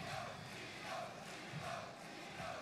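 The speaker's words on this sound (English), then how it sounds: "This crowd loving the fact that Io Shirai finally won the big one and got the gold" A virtual arena crowd in the WWE 2K22 wrestling video game cheers steadily, a loud, continuous roar with rolling swells that fills the whole moment.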